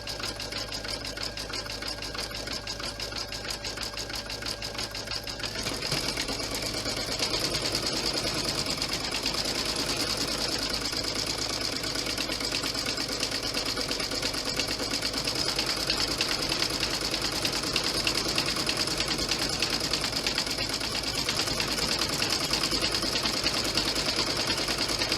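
A sewing machine runs a steady, continuous stitch along the inside edge of a satin stitch on a wallet, mechanical hum loud and unbroken throughout with no talk.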